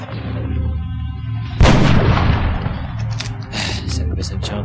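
A single sharp gunshot rings out in the X-COM tactical video game, a loud close blast over a low game soundtrack, followed by fainter clicks and interface sounds.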